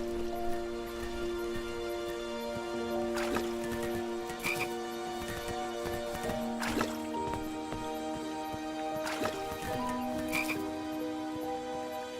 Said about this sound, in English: I was too slow to catch those frogs.